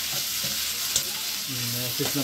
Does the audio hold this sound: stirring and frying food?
yes